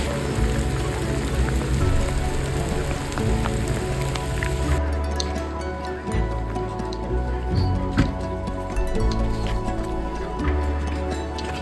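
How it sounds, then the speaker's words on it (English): Steady patter of raindrops on a rain hood, heard up close while walking the Camino de Santiago, a dense continuous drumming with footstep thuds and rustle underneath. "Hearing the patter of raindrops on my hood."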